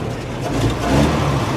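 A warmed-up 1954 Dodge Power Wagon M37 engine cranks and fires, a loud close rumbling burst that swells and settles into a steady running note.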